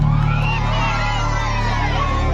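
An audience at a live music program in Kumarikata, Sahebtopa, Assam, cheers and shouts in a loud, dense roar. The noise holds steady for the whole moment, with musical tones faintly underneath.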